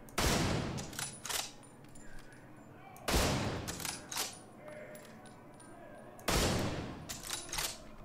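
A Nemesis sniper rifle fires at a target in The Division 2: three loud, heavy shots spaced about three seconds apart, each with a long ringing tail and scattered mechanical clinks between.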